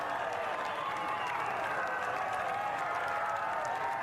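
A golf gallery at Valhalla applauds and cheers Bryson's shot: sustained, dense clapping from a large outdoor crowd, steady and fairly loud throughout.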